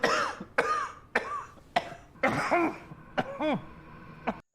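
A foreman in a film coughs repeatedly in harsh, throaty bursts, about a dozen close, rasping hacks with throat clearing, coming in irregular clusters with no talking.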